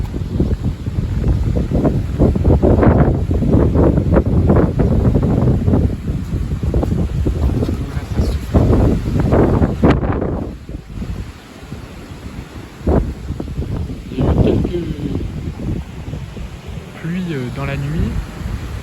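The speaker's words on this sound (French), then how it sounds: "Regarde-moi les rafales là." Strong wind gusts above 80 km/h in spring, bending heavily laden trees: loud rushing, buffeting roar hitting the microphone in bursts, easing briefly midway, with someone talking over it.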